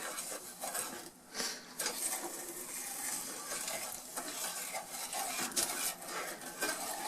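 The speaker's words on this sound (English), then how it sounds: "And you want to keep stirring this." A butter mixture is stirred in a pot, making a steady soft scraping and swishing with faint sizzling throughout, at low volume with no voices.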